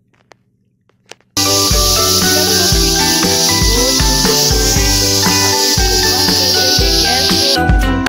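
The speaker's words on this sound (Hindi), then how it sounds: "कुकर को चढ़ा देंगे चूल्हे पे कम से कम पाँच सीटी" A pressure cooker on a stove builds to a loud, sustained steam hiss that blows continuously after a brief quiet start with a few small clicks. The whistle lasts several seconds and is heard alone, close by.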